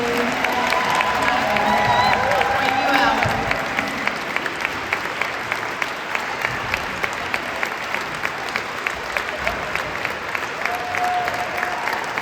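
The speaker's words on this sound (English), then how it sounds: "we want to thank you and to give you a round of applause" A crowd at a gala applauds steadily and loudly for several seconds, the clapping thinning slightly toward the end while a voice speaks briefly over it.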